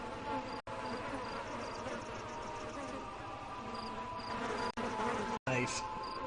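A dense insect drone of bees swarming in the PC game Ghost Master runs continuously at moderate level, mixed with other game sounds and a short break near the end.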